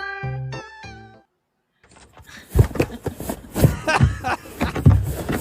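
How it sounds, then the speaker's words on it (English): A few cat meows sound clearly at first, then give way to a stretch of noisy handling sounds and background clatter. "Time for some kitty cats, baby."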